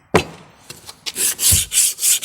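Rhythmic rasping strokes of a new hand-plane iron, oiled, being rubbed back and forth on 120-grit sandpaper, close and loud, with a sharp knock at the start and several repeated scrubbing passes.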